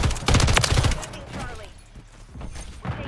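Rapid bursts of TAQ Evolvere rifle fire in Modern Warfare 3 gameplay, dense crackling shots loudest at the start and then thinning into scattered game effects, with a voice talking over them.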